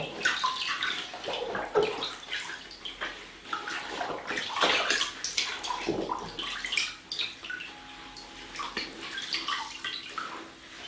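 Tap water runs and splashes steadily as onion-dyed fabric is rinsed under the faucet. Sloshing and wet handling sounds stay close and fairly loud and carry on without a break, with no talk.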